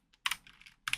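Computer keyboard typing in a file name: one faint tap, then a quick cluster of loud, close keystrokes, a short pause and a final sharp key press.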